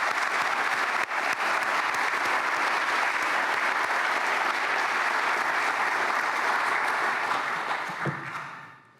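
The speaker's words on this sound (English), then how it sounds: "Please join me in a round of applause to thank everyone involved in the 2023 Women Excel Bloomington Awards." Sustained audience applause at an awards ceremony, the 2023 Women Excel Bloomington Awards, dense and steady for about eight seconds before tapering off near the end.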